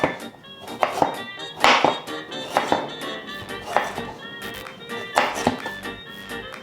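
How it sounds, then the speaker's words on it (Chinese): Peeled ginger, about ten grams, is sliced with a knife on a cutting board, giving a series of crisp, irregular chops close up with no talking. "削完皮切片"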